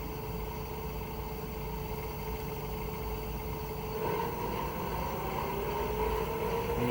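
A Cee Brewer Science 100GX centrifuge ramps up to 1,000 RPM. A steady motor hum grows slightly louder partway through as its tone begins climbing, heard close and alone.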